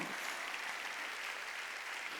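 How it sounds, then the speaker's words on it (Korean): Church congregation clapping during a Sunday worship service, a steady faint wash of applause from many hands, distant and continuous without a break. "박수"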